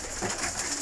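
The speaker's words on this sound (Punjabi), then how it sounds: "ਵੇਖੋ ਜੀ ਕਬੂਤਰ ਆਇਆ ਜੀ ਕਬੂਤਰ" A pigeon coos close by in soft, repeated throaty pulses over a steady background hiss.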